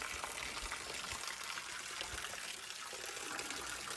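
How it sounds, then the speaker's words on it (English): Water pours steadily into a large outdoor storage tank on a rural property on Kilchis River Road, a continuous broadband rushing and splashing with no talk. "the water's coming into the tank here, keeping it full"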